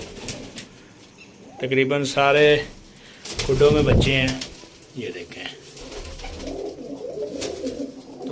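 Breeder pigeons and their chicks coo inside a loft, a low continuous murmur of cooing running throughout, with someone talking loudly and close over it in the middle.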